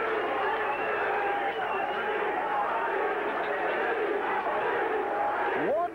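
A boxing arena crowd roars for middleweight John "the Beast" Mugabi after a first-round knockout of Earl Hargrove: a sustained, dense wash of cheering and yelling from a large audience, loud and continuous, with a voice briefly audible within it.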